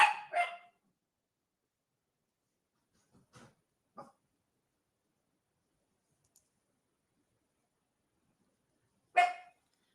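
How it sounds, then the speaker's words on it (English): A puppy lets out a few sharp, high yaps: two quick barks at the start, a couple of softer whimpering sounds a few seconds later, and one more loud bark near the end, with quiet gaps between. "let me go let the puppy out of his confinement area so he can stop yapping"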